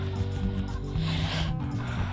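Chickens in the mobile farming game Egg, Inc. cluck in a steady, dense chorus over a continuous background of game sound.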